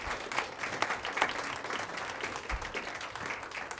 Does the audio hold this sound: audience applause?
yes